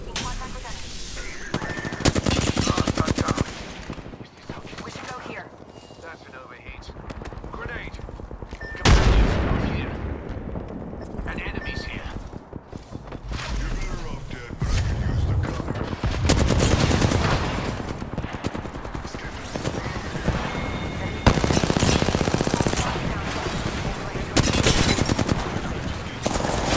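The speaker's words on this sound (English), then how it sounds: "With a firearm here. Smart bullets hit our foe." Rapid bursts of video game gunfire from smart bullets in a solo queue battle royale match, with loud repeated volleys and sustained automatic fire across much of the span.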